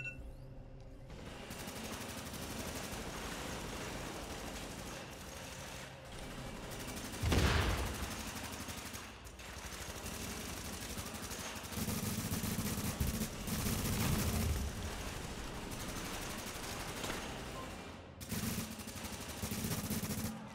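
Dense gunfire in The Division video game during a Grand Central Station mission: sustained bursts of rapid shots with a louder blast around the middle, continuing in heavy volleys throughout.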